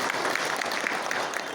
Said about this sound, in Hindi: तालियां भगत सिंह साहब के लिए